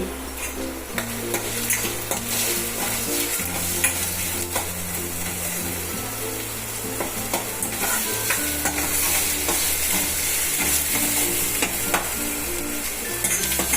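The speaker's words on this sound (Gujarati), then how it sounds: "ડુંગળી આપણી સોતળાય છે" Salted onions sauté in a pan with a continuous bright sizzle and frequent stirring scrapes, close and even throughout, with no voices.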